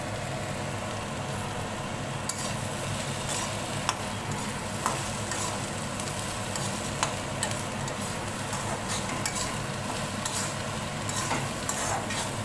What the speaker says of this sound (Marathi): थोडी हळद टाकून घेऊया आणि भेंडी परत परतून घेऊ आपण चांगली